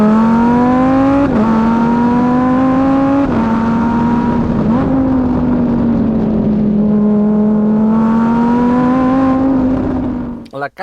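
A Lamborghini Huracan Evo RWD Spyder in Corsa mode accelerates hard, its loud V10 wail climbing through several quick upshifts, each marked by a brief dip, before cutting off abruptly at the end.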